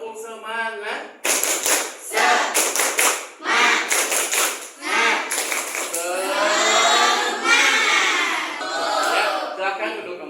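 A class of pupils does tepuk semangat, a rhythmic clapping routine in bursts of sharp, loud group claps with pauses between, while young voices chant along in time.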